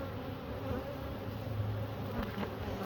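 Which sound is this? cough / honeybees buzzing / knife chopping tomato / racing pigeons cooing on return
honeybees buzzing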